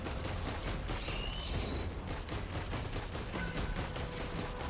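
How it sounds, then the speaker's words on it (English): A swarm of missiles launching in the video game Risk of Rain 2, heard as a dense, continuous barrage of overlapping pops and booms with whooshing streaks over loud game noise. "Fires a swarm of missiles."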